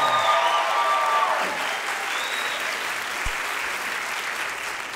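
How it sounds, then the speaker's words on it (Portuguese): A comedy show audience gives Cris Paiva a round of applause, a broad, even roar of clapping that stays strong throughout, with a faint trace of a voice at the start. "uma salva de palmas para Cris"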